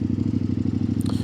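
Engine of a 2025 Kove 800X Pro adventure motorcycle idling freshly started on a cold day, a steady loud pulsing low rumble with fast regular beats, close by, with a brief higher clink near the end.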